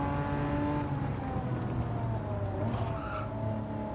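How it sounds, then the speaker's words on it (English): A loud, naturally aspirated, large-displacement inline six-cylinder race car in a racing video game holds a steady droning tone, with tire squeal rising near the end. "It's loud, naturally aspirated, large displacement, 6-cylinder."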